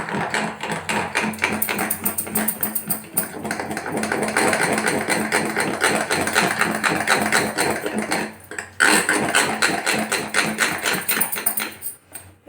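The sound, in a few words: glass bangles clinking against a glass bowl while mixing batter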